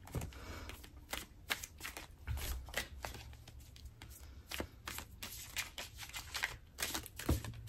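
A deck of tarot cards being shuffled by hand, close and crisp, with rapid irregular riffles and slaps repeating across the stretch, no talking over it.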